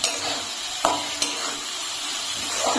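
Boiled potato is sautéed with a spice mixture in a pan, giving a steady close sizzle broken by a few sharp spoon scrapes and taps against the pan.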